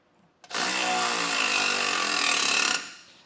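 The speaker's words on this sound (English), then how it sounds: "to get these off, pretty easy, just a 16 millimeter socket." A power tool with a 16 mm socket loosens a frame stiffener bolt on a 2021 Jeep Wrangler, giving one loud, close whirring burst of about two seconds that starts and stops abruptly.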